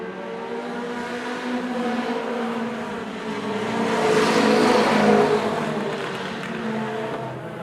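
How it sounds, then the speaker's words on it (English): Race cars lapping a circuit during a regional race round, engines roaring steadily with harmonic whine that swells as cars pass close around the middle, then fades slightly, loud and continuous with no talk. "Edwin Drake into second with 7 laps left to go in the race"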